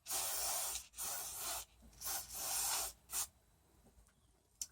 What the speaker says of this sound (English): Everybody loves spray grease.